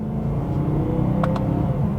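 A BMW E92 M3 Lime Rock Park Edition pulls hard in manual mode, its engine droning loudly from inside the cabin, steady and rising, with a couple of faint clicks partway through.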